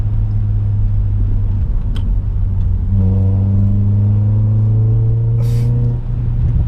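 A modified car driving on a twisty road, its engine humming steadily with low rumbling tones that rise in pitch as it accelerates, close and loud throughout.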